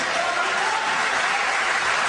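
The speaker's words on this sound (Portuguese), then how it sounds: "Aplauda Jesus por eles" Congregation applause at a Portuguese-language church service, a dense, steady wash of many hands clapping at once, fairly loud and continuous without a break.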